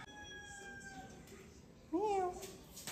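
Cat, a mother cat, gives one clear rising meow partway through, near and fairly quiet, following a faint tonal sound earlier.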